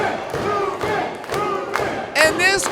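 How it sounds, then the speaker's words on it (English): Wrestling crowd at a live show cheers and roars steadily, with shouts and a louder swell near the end, under a commentator talking. "And this crowd is electric when it comes to Dan Hooven."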